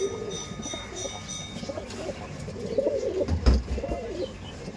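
Pigeons coo in low, soft, rolling calls that repeat and overlap at close range, with a brief thump near the end.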